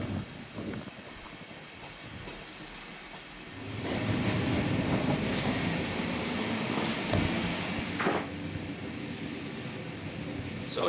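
Interior of an ICE high-speed train pulling out of Cologne, with a steady rumble and rail noise that swells and grows louder partway through, and faint voices in the carriage.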